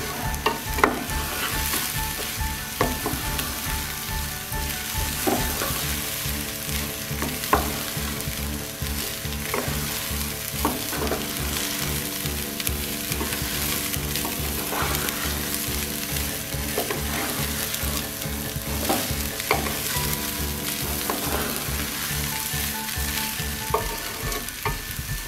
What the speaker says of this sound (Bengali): চাল ভালো করে ভেজে নিলে